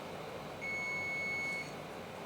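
Oven timer beeping once Levain cookies finish baking, a single sustained electronic beep lasting about a second over faint room hiss, quiet and slightly distant.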